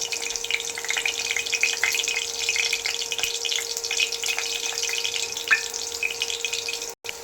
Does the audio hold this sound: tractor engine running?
no